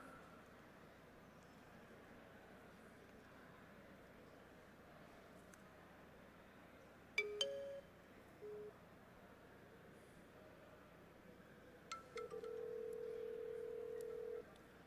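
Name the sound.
telephone number being dialed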